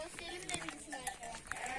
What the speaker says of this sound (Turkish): Anne koyun ve küçük yavru koyunlar da var.